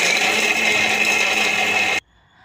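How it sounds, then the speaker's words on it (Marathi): A mixer grinder whirs loud and steady as it grinds thinly sliced coconut for coconut barfi, running continuously for about two seconds before cutting off abruptly into near silence. "नंतर मिक्सरच्या भांड्यामध्ये फिरवून घ्यायचं।"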